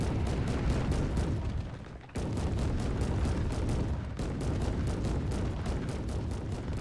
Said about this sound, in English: AP rounds are flying out.